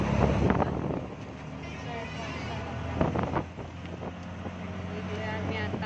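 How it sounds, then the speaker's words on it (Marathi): Strong wind buffets the microphone outdoors over a steady, heavy rumble of passing vehicle traffic, with a few louder gusts and a voice speaking now and then. "कारण खूप वाहनांचा आवाज येतोय. वारं पण खूप सुटले."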